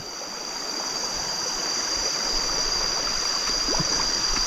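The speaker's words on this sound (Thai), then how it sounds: "จุดนี้ก็เป็น ลำธารนะผมลำธารข้างทางเนาะ" A forest stream beside a jungle trail leading to a large waterfall rushes with a steady, broad watery hiss, moderately close and continuous, alongside a high insect whine and no voices.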